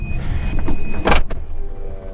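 Electric whir of a Volkswagen T6 Multivan power window retracting into the door, close and loud, with a brief clunk as it stops, then quiet cabin noise.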